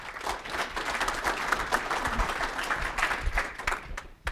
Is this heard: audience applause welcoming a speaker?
yes